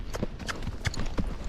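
Rocky Mountain Horse's hooves clip-clopping at a walk, a string of crisp, evenly spaced clops close by over a faint background.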